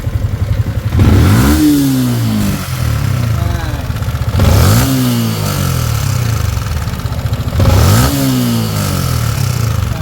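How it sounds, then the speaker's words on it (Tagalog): A Yamaha Sniper 155 motorcycle engine with a bad cam bearing revs up three times to loud, rising peaks and settles back to a steady mid idle between them, with an odd tapping, rocker-arm-like clatter running through it. "may mararamdaman din kayo kakaibang tunog dyan. Parang rocker arm eh."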